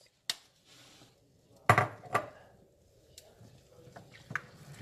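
Diluted liquid castile soap paste is stirred in a pot, giving sparse, quiet knocks and clinks from the utensil against the sides, with soft rustling between the scattered hits.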